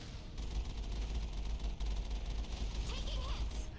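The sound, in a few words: Mako vehicle firing at turrets in Mass Effect video game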